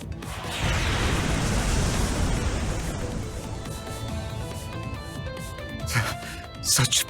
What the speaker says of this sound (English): Those are the new Rhineford Railway cannons.